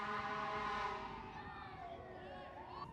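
An ambulance siren wails past outside a grill, its tone sliding and fading as it goes by, mixed with low street rumble.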